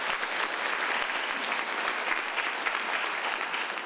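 Audience applause at an award ceremony, thanking a traditional Chinese silk-and-bamboo orchestra: a dense, even wash of many hands clapping that holds steady throughout, moderately loud and without voices on top.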